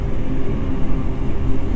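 Heavy trucks rumbling along a busy road through a protected forest near Kendal, a dense, loud low-pitched roar of engines and tyres that swells and dips steadily, with no voices.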